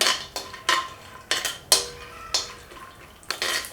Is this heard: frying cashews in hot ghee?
yes